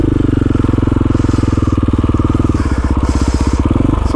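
A KTM motorcycle engine chugs steadily at low revs while ridden slowly over icy, snowy rocky trail, with a loud, close, rhythmic pulsing throttle that dips and picks up near the end.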